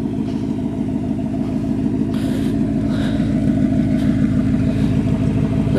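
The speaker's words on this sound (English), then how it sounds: "Definitely need to get the exhaust fixed again." A car engine idles steadily with a deep, rumbly exhaust drone from a faulty exhaust needing repair, constant and close, with a few faint higher noises on top.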